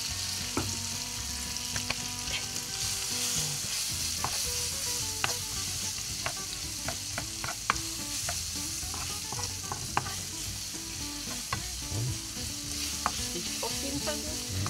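Onions dusted with flour fry in a pot for Käsespätzle, giving a soft, steady sizzle close by with scattered light clicks and scrapes from stirring throughout, and no voices.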